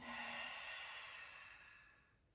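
One long, steady breath out through the mouth during a yoga breathing exercise, close and breathy, fading gradually over about two seconds.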